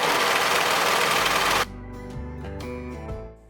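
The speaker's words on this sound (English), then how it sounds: "match up all the edges and sew" A sewing machine stitches along the edges of a dress with a fast, loud whirring rattle for about a second and a half, then falls quiet and gives way to a lower, tonal hum.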